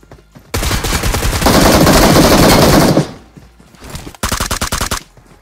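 Loud, sustained bursts of automatic gunfire in the mobile battle royale game BGMI, a long continuous volley followed by a short pause and then a second rapid burst, with no talking.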